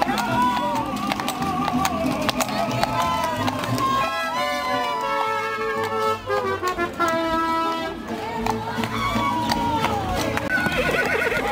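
A horse bringing a quinceañera to her 15th birthday celebration in Tula, Tamaulipas, whinnies as its hooves clip-clop along, amid lively music, crowd noise and people talking.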